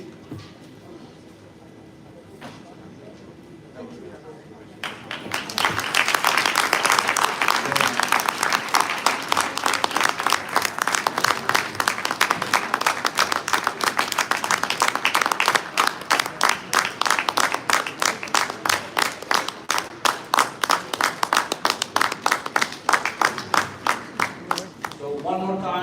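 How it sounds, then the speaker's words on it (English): Guests at a convention gala dinner in Atlanta break into applause after a few quiet seconds, and the clapping swells into a loud, sustained ovation from a large crowd that continues steadily to the end. "can you please give a big round of applause"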